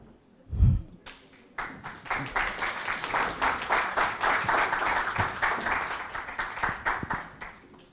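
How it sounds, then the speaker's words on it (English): Conference audience applauds as panelists come onto the stage, a steady wash of many hands clapping, moderately loud and sustained, starting after a brief thump. "Please welcome them with a warm round of applause."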